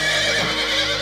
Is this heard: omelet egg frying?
no